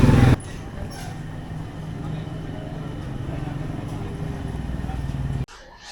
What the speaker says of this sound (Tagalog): Ingay ng mga motor.